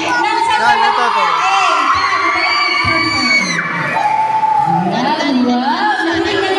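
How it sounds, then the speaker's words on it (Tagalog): Parents cheer and shout for their children's centers at a clay competition, a loud, continuous crowd of excited yells and whoops with high children's voices mixed in. "Nakikita natin ang mga hiyawan ng bawat parents na kanya-kanyang center."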